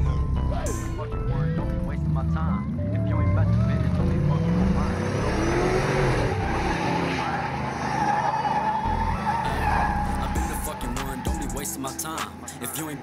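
Cars and trucks skid and swing around, with loud, continuous tire squeals rising and falling over rumbling engines, and a voice or music layered on top.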